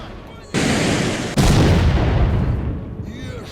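An RPG launched at bandits in the game S.T.A.L.K.E.R. Clear Sky: two heavy, abrupt blasts a second apart, each followed by a loud roaring tail that slowly fades, close and dominant.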